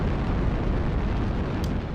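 Dense, continuous roar of missile explosions in a mech combat video game, loud and rumbling throughout without a break.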